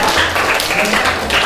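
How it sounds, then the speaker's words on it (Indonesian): Classroom audience applauding for a student group after a presentation: a brief, steady patter of clapping from many hands under a nearby voice. "Tepuk tangannya buat kelompok 1"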